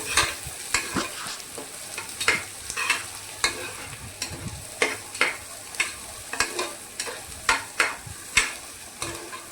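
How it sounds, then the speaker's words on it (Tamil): Curry leaves, green chillies and garlic sautéing in hot oil while being stirred for tomato rice, with steady sizzling and repeated sharp scrapes of the spatula against the pan, close and alone without talk. "சேர்த்து அதையும் கொஞ்சம் நல்லா வதக்கிக்கலாம்."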